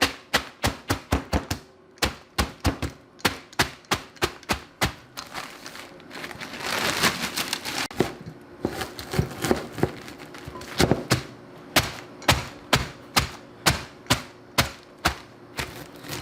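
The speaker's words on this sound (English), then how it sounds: "now I'm going to use my trusty marble rolling pin." Sharp, regular thuds and crackles as pork rinds are pounded and crushed repeatedly with a marble rolling pin, close by, with a brief rustling, crinkling stretch midway.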